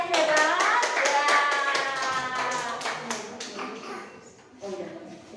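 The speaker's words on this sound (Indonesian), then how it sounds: "ayo tante-tante kasih tepuk tangan dong buat anak-anak yang hebat" Applause for children at a Sunday kids' worship class, a burst of rhythmic, fairly close hand claps from a small group, with children's voices and talking mixed in before the clapping thins out.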